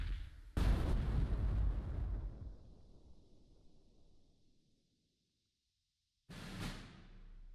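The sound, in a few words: mortar strike explosions in a video game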